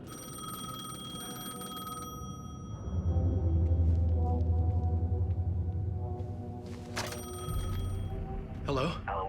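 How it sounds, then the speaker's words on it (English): A payphone rings in the video game Alan Wake 2, a repeated electronic bell over a low droning score, with someone speaking over parts of it. "payphone was ringing."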